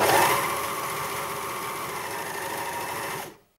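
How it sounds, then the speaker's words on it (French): A sewing machine running an overlock stitch, its blade trimming the fabric edge, hums in a fast steady mechanical whir at close range, then stops abruptly just before the end. "On va utiliser le surjet. Donc, la lame va couper l'extrémité du tissu."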